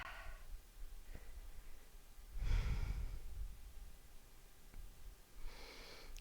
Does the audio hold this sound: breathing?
yes